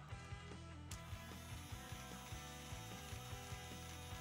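A small toy motor whirs with a rapid, repetitive ratcheting clatter of plastic gears, steady and close.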